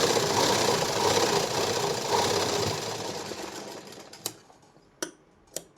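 Sewing machine running steadily while stitching a lined blouse, a continuous mechanical whir for about three seconds that fades, followed by a few sharp isolated clicks.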